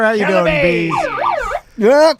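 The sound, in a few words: siren sound effect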